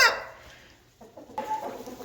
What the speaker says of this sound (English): the 20 chickens that we have, well, 19 chickens that we have here